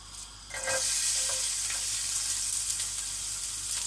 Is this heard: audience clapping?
no